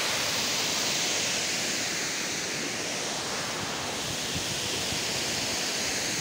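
Vaipuanpho waterfall near Aizawl roars as a loud, steady broadband rush of falling water, continuous and close with no pauses or voices.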